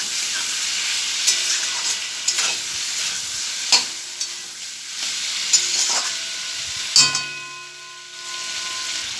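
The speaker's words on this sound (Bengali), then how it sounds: "আমি কেশরি মেথি দিয়ে দেবো আর মাংস লেড়ে দেবো।" A chicken and potato curry with fenugreek is stirred in a hot pan. Steady sizzling and frying hiss is broken by periodic scraping stir strokes and clinks of the utensil against the pan, close and without talk.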